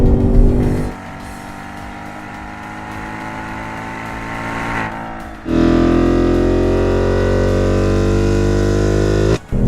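A 2019 Ford Mustang Bullitt's front-mounted V8 rumbles while driven hard, the engine note dropping off, then surging back loud and deep as the throttle opens again.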